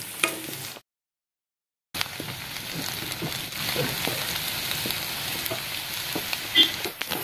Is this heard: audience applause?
no